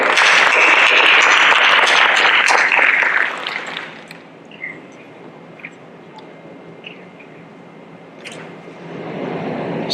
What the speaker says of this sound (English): A warm round of applause for Dr.